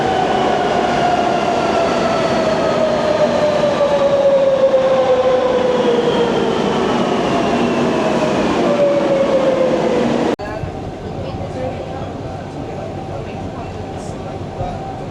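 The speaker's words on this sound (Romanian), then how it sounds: "Vine trenul nostru." A Madrid metro train pulls into the station with rolling wheel rumble and a long descending whine as it slows, and the noise drops off sharply near the end.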